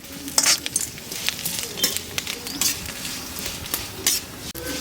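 Garlic fries in a pan for a pepper kulambu, giving a steady sizzle under quick, close stirring strokes and metallic scrapes and clinks of a spoon against the pan.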